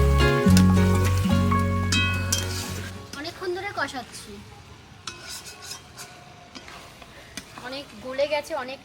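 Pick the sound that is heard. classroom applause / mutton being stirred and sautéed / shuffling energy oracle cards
mutton being stirred and sautéed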